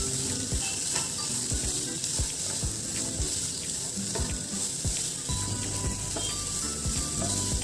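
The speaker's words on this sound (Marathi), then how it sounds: "आता आपण यामध्ये शिमला मिरची व गाजर देखील घालून पुन्हा एकदा परतणार आहोत." Capsicum and carrots stir-fried in a pan, giving a steady close sizzle with scraping clicks and clatter of a spatula against the pan throughout.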